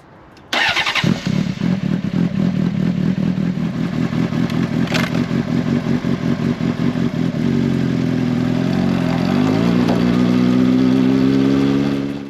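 A Honda CBR600RR motorcycle engine starts and runs close by, with a rapid loud idle rumble that rises as the revs climb and settle toward the end.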